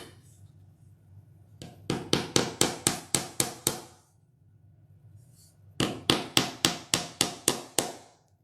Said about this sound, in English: And I'm going to hammer.